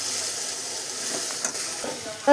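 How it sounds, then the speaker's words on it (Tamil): Tomato and onion sauté over high heat in a pan for a chutney, giving a steady soft sizzle and hiss with a few faint stirring touches near the end. "தக்காளியும் நல்லா வதங்கிட்டோம்"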